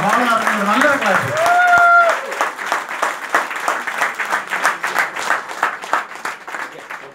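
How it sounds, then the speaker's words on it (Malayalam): An audience applauds in a hall at a recognition event, a few seconds of speech giving way to sustained, moderately loud clapping from a crowd that carries on steadily to the end. "നല്ലൊരു ക്ലാപ്പ് കൊടുക്കാം."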